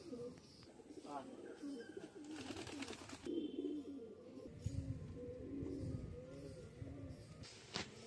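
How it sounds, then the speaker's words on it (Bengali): Pigeons coo in soft, rounded, repeated calls as they come in to land on a rooftop loft, with bursts of fluttering and scuffling mixed in, fairly close but quiet overall. "পায়রা বসছে, দেখতে নিন।"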